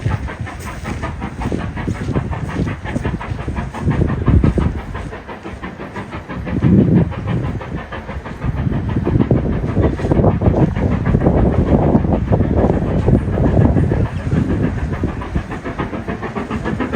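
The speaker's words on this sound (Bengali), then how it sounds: "আমরা খুবই লাকি যে আমরা থাকা অবস্থায় জ্যাকোবাইট স্ট্রিম ট্রেনের দেখা পেলাম" The Jacobite steam train crosses a viaduct in Scotland with a loud, sustained rumble and rhythmic clatter of wheels on rails, swelling and easing as the carriages pass close by, without any talking.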